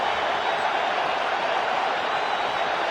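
A virtual cricket crowd in the WCC3 video game keeps up a steady, dense roar of cheering and noise at constant volume throughout.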